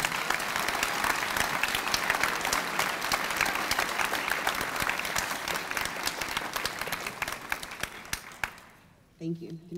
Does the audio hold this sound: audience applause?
yes